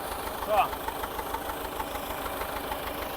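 Repaired T-40 tractor engine idling steadily with a low rhythmic knocking throb, heard close under someone talking.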